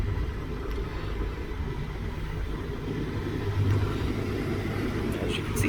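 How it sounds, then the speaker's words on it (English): A 2000 Honda Civic EX with a manual transmission runs steadily just after starting, a low even engine hum with no revving, heard faintly throughout. "Start it, foot on the clutch, and voila."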